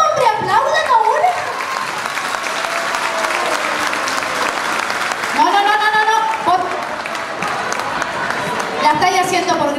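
A festival crowd at a Chilean cueca and folk song gathering applauds loudly and steadily, a dense wash of clapping with voices calling out and a whistle-like cheer rising over it.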